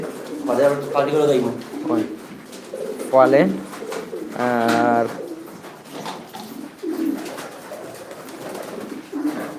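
Pairs of pigeons on a farm in Sylhet give several throaty rolling coos spread across the span, someone talking between and over them.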